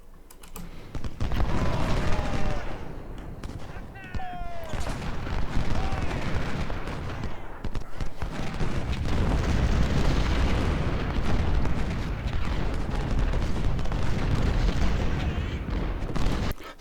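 Napoleon cannons in Ultimate General: Civil War fire as a rolling battlefield rumble of distant artillery booms layered with crackling musketry, steady and moderately loud, with keyboard clicks and occasional voices over it.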